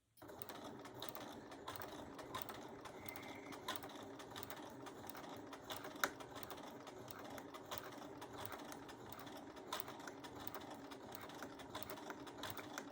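A sewing machine runs steadily and close by, stitching fabric for a sawtooth quilt block, its motor hum and rapid needle chatter continuing without a break and without talk.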